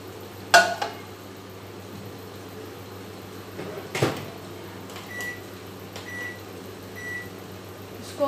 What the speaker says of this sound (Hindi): अब हम इसको ओवन कराएंगे।